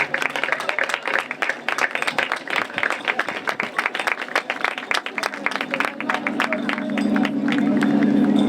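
Crowd applause and clapping at an open-water swim crossing to Illa de Rúa in Ribeira, 2024, dense and sustained throughout, with a steadier hum of voices building toward the end.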